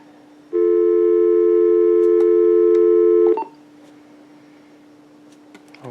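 A PBX phone line's reorder tone, recorded onto an answering machine message of a Uniden EXS2080 900MHz DSS cordless phone, sounds as one loud steady tone held for almost three seconds and then cut off abruptly, followed by quiet line hiss and faint clicks.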